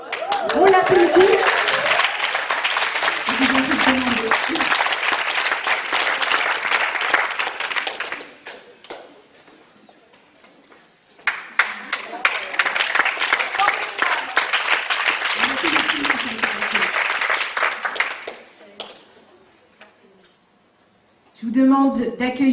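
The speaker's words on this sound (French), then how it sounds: "On l'applaudit." An audience at a poetry evening applauds in two long bursts of dense clapping with a quieter lull between, and voices speak over the start and end.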